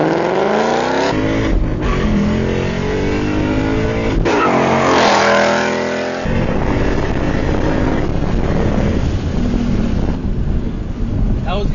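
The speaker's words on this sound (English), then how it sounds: "So now we're gonna do the last launch control before we part ways." A Ford Mustang GT (S550) launches hard under launch control, its V8 revving up loud and close before roaring through the gears as it pulls away, with wind rushing over the microphone.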